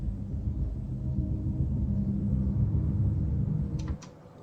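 Synthesizer drone in an album track before filter automation, a steady dense low-pitched tone holding for about four seconds, then cutting off abruptly to near silence with a couple of faint clicks.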